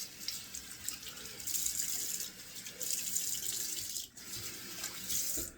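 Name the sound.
tap water rinsing shaving brush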